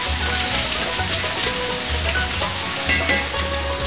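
Potatoes fry in a pan with a loud, continuous crackling sizzle, a dense spattering hiss like rain that carries steadily throughout with no talk.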